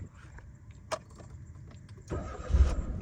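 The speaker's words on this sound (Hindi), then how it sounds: "गाड़ी को कर देते हैं एक बार स्टार्ट।" A budget family car starts on its self-starter with the air conditioning switched on: a short cranking whir rises into a low, rumbling idle after a quiet moment with a small click.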